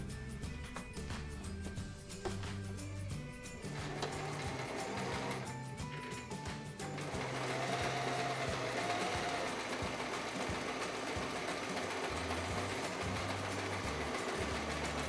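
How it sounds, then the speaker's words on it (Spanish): A sewing machine stitches around the fabric of an apron pocket, a loud, steady mechanical whir with a rapid needle rhythm that keeps running throughout, shifting to a higher, busier drive about halfway through. "Entonces ahora pasamos a la máquina de coser."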